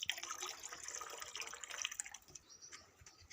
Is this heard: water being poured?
yes